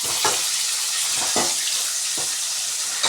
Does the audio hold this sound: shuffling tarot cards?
no